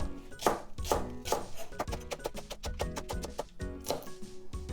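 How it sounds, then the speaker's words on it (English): A knife slices diagonally through green onion on a cutting board in a home kitchen, producing a quick run of crisp, close, evenly spaced chops with no talking. "Then just slice this in however ways you want it. I just kind of like to cut it diagonal like this."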